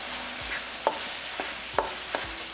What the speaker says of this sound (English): curry powder, cumin seeds, green chilli paste. Give it a good stir